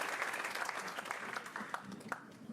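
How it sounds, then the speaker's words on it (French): An audience at a SporTech conference gives a short round of moderate applause, with scattered individual claps standing out from the dense patter. "donc on peut l'applaudir"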